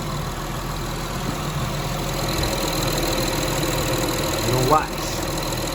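A Honda/Acura car engine runs at a steady idle with a constant mid-pitched hum and faint knocking vibration, a brief rise near the end, while someone speaks briefly.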